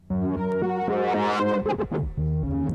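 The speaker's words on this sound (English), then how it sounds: "So you've just got reverb on step 13 there, coming in and out" A Korg Minilogue XD synthesizer sequence steps through repeating notes, and step 13 suddenly blooms into a wash of reverb before the dry pattern resumes.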